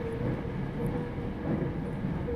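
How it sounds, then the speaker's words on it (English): A crowded train in Japan rumbles steadily, with a continuous low rolling drone and faint rail noise and no voices audible. "You don't like being squished by a bunch of Japanese people on a train?"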